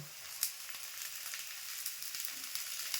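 Green moong chila sizzling in a little oil on a pan, a soft, steady crackle with a few sharp pops and ticks scattered across it, fairly quiet and close, with no talking.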